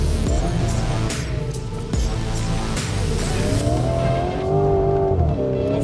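A Lamborghini Urus SE SUV power oversteering on a test track, its engine roaring loud and close with rising revs and tires squealing continuously through the slide.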